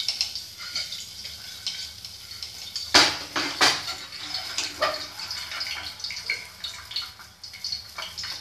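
Egg curry is stirred inside a pressure cooker pot, giving metallic scrapes and clinks of a spoon against the pot, with two sharp clanks early and softer irregular scraping that continues throughout.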